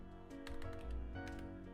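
Keys clatter on a computer keyboard in a quick, uneven burst of clicks, close and fairly quiet under a steady background hum.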